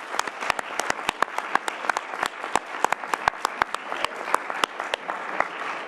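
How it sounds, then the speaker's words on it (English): A congregation at a Unitarian Universalist worship service gives a round of applause, with moderately near, fairly sparse individual claps in a steady patter. "And I want to give them a round of applause."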